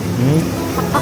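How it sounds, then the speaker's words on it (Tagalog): A chicken clucks on a farm in Japan in a short, loud burst of throaty calls from close by, over steady outdoor background noise. "may manok din dito"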